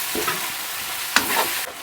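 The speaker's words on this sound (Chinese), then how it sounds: "鸡炒差不多了，来几个干辣椒，来一勺豆瓣酱，再来半勺自制火锅底料，" Chicken stir-fried in a wok with dried chilies, bean paste and homemade hotpot base, giving a steady loud sizzle with scraping spatula strokes over about two seconds, no voices.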